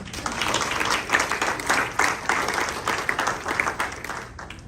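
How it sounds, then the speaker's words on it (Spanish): A church congregation applauds during a sermon, many hands clapping in uneven surges that rise and fall, fairly loud and near, then thinning toward the end. "Den un aplauso al Señor."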